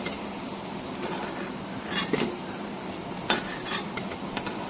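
Fried bread pakoras are lifted from a pan of hot oil, with scattered metal utensil clinks and scrapes over a continuous soft sizzle.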